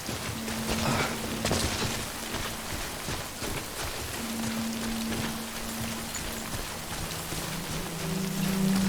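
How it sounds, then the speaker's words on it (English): Steady rain in the video game Death Stranding hisses throughout, a dense wash of patter with scattered low thumps and a faint tonal hum underneath, no talking. "Like it's raining, it's like nighttime-ish."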